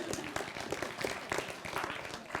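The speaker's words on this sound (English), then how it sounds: "Give yourselves a round of applause." A convocation audience at Los Rios Colleges applauds, a scattered, uneven run of claps heard at a distance in a large room, fairly faint.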